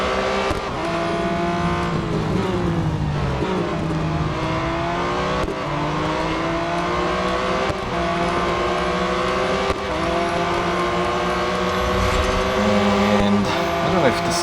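A Porsche 718 Cayman GT4 Clubsport racing in Real Racing 3, its engine note climbing and dropping through gear changes in a continuous loud drone, with someone talking over the engine throughout.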